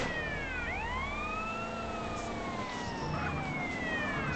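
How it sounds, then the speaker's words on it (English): A police car siren in Grand Theft Auto San Andreas wails in rising and falling sweeps, loud and close, over a constant engine and traffic rumble. "I did not want to fight the police car there."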